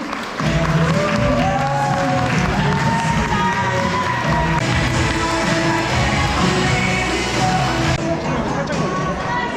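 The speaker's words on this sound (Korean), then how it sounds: "행복한 신랑 신부의 앞날을 위해 뜨거운 박수로 축복해 주시기 바랍니다" At a wedding, guests give steady, loud applause and cheers for the bride and groom as they march together. Clapping runs throughout, mixed with crowd voices and background music.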